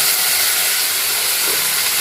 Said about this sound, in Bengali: এখন এটাকে আমি পেঁয়াজ দিয়ে ভাজা ভাজা করে নিচ্ছি